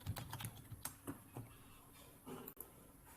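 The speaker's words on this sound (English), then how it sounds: "I'm going to type in password here." A password typed on a computer keyboard during a hacking session: quick, light, irregular key clicks close to the mic, with a short pause and a sharper final keystroke at a quiet level.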